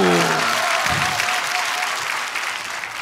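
Loud, dense applause fills a church hall from a sizable congregation, continuous and full, easing slightly in volume over a few seconds, with a brief voice audible at the very start.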